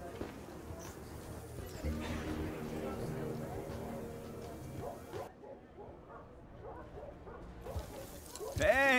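A dog yips and barks on a rooftop barbecue scene in Marvel's Avengers, with short bursts of barking and whimpering mixed under game dialogue and voices.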